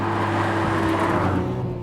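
Nissan Skyline R34 GTR twin-turbo engine heard from inside, a brief, steady, loud droning whine held at high revs near 8000 RPM.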